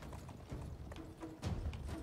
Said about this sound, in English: I'm actually on my horse.